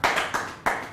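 Three sharp hand claps spaced about a third of a second apart, close and fairly loud, as a small audience votes by applause for the second of three oranges.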